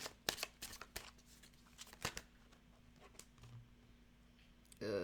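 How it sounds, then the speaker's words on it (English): Tarot cards being shuffled repeatedly, a rapid flutter of crisp riffles and taps, close and fairly quiet, with a low steady hum underneath. "I'm going to keep shuffling because we're almost at the end here."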